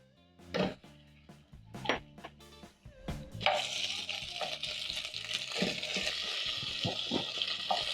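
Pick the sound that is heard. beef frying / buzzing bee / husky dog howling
beef frying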